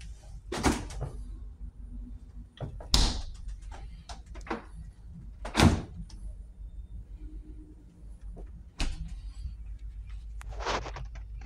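Two-door fridge in a studio apartment kitchenette, its doors opened and shut in several sharp thuds and clunks spread across the stretch, with faint rattles between them and no talking.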